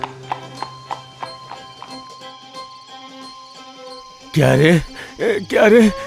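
Horse hooves clip-clop in a steady rhythm as a horse-drawn carriage approaches in an animated cartoon story, the tapping clear over a faint insect-like drone before loud voices break in near the end.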